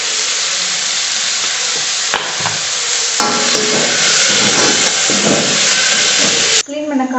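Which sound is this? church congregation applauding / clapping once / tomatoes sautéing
tomatoes sautéing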